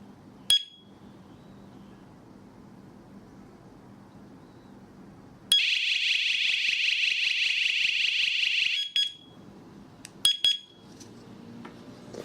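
Chuango WS105+ mini strobe siren alarm gives a short chirp, then a shrill, piercing electronic siren blares for about three seconds before cutting off, followed by a few more brief beeps.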